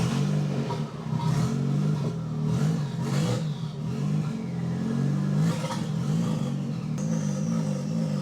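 A turbocharged car engine, fitted with a smaller turbo, revs repeatedly in loud, close bursts, rising and falling in pitch with a steady idle rumble between the pulls.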